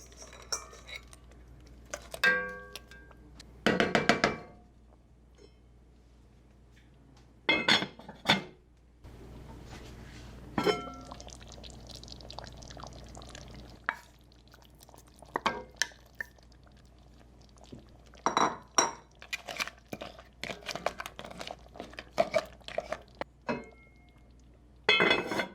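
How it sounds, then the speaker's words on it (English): Pots and metal utensils clink and clatter in a home kitchen as crab goes into a cooking pot for shrimp étouffée, in scattered bursts separated by quiet pauses. "now I'm going to add my crab before my shrimp"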